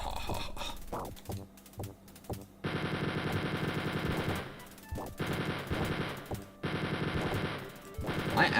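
Rapid bursts of automatic gunfire from the 1992 video game Wolfenstein 3D rattle in long sustained volleys separated by short gaps, with a few single shots at the start, all loud and clean without speech.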